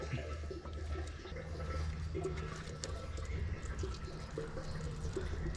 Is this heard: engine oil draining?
yes